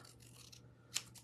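Card paper being trimmed with scissors for card making: a quiet run of faint rustling, then a single quick, crisp snip near the end, with no talking.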